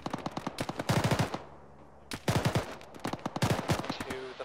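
Bursts of machine gun fire rattle out in a military video game, rapid close shots in several strings with a short gap, each volley loud and sharp, alongside a brief tonal blip near the end.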